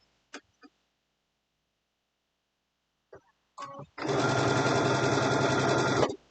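A sewing machine stitches an Easter basket: a few short taps and brief bursts first, then a loud, steady, continuous run of stitching lasting about two seconds before it stops.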